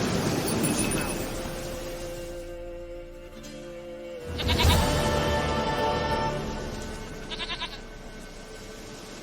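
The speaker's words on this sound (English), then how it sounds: "dearest, sweetest goat." A goat bleats in Witcher 3, giving a few drawn-out, wavering bleats separated by pauses, with background game sound underneath.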